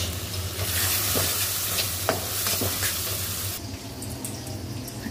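Green chilies sizzle with softened tomato in a pan, giving a loud, dense hiss. A spatula stirs them with occasional scrapes and taps, close up and with no voices.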